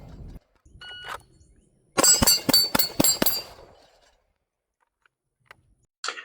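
A Staccato HD 4.5-inch pistol fires a quick string of about six shots at a steel plate rack. Each report is followed by a sharp metallic ring from the plates, and the sequence is loud and without speech.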